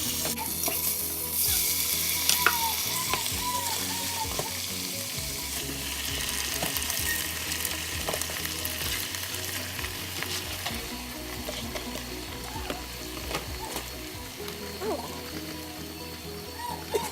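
Food sizzles and fries steadily in a pot on a home stove during cooking, a loud continuous crackle with occasional stirring scrapes and a few quiet voices in the background.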